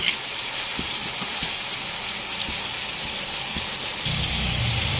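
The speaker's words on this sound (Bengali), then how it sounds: "এখানে ঝিঙ্গাটা ভাজা হচ্ছে।" Ridge gourd fries in hot oil in a wok, giving a steady, close sizzle with occasional pops and a deeper rumble toward the end.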